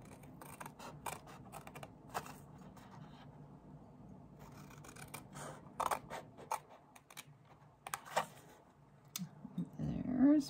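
Scissors snip through paper along a score line while a small Easter basket is being made, short crisp cuts scattered between quieter handling noises, with a louder scrape near the end.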